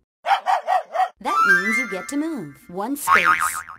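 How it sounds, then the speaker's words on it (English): Four short cartoonish dog barks from a Mickey Mouse Clubhouse video game sound-matching round, evenly spaced and loud, followed by a narrator speaking over game music. "A dog. Sounds like this."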